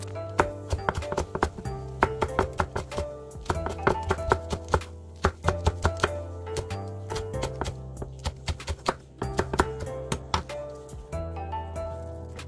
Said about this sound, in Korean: 청양고추 3개를 쫑쫑쫑 썰어줍니다.